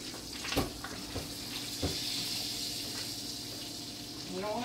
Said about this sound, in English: So we're going to come over here and we are going to get them fried.